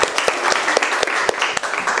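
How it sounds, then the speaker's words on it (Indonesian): Audience applauding the presenting groups in a classroom session, with sharp individual claps standing out over a busy rolling patter, brief and fairly close. "Tepuk tangan untuk semua."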